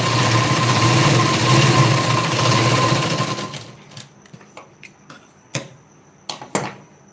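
A sewing machine stitching a blouse runs with a loud, continuous motor whir and rapid needle chatter, then stops partway through, leaving scattered soft clicks and taps of fabric handling.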